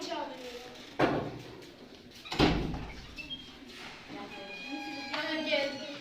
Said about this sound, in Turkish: Kapıyı da aç, kapı çalıyor.